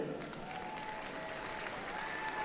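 An arena crowd at the Crufts 2013 breeders competition applauds continuously as golden retrievers parade in, with dense, sustained clapping at moderate distance.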